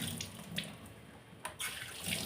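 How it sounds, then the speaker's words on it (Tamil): Tomatoes are rinsed under a running kitchen tap, a steady hiss of water with brief splashes and clatters as they are turned in the stream. "தக்காளி வாஷ் பண்ணிட்டு"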